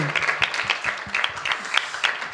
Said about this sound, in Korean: 박수는 하나님께만.